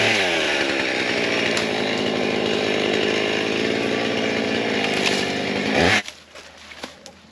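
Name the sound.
chainsaw running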